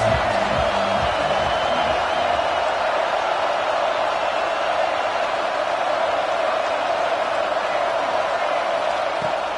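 A football stadium crowd fills the air with a constant, dense roar that stays at an even, loud level throughout without clear peaks or breaks.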